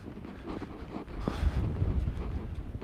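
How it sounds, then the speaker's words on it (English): Strong outdoor wind buffets the microphone in a low rumbling roar that swells and gusts over a few seconds, with no one talking. "My God, this is really windy out here today."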